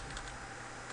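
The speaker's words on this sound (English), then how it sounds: "Let me type it again." Continuous typing on a computer keyboard, a dense patter of small key taps filling a one-second stretch at moderate, close level with a faint background hiss.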